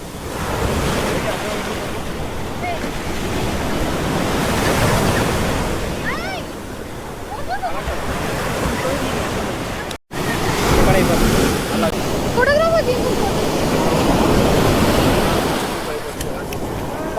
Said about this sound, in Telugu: పాండిచేరి బీచ్.